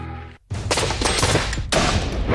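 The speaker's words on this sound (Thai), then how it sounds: "เราจะเอาปืนตะปูพวกนี้ไปทำการทดสอบ" A pneumatic nail gun fires in sharp, loud bursts up close, with a hard onset after a brief silence and a second forceful burst following about a second later.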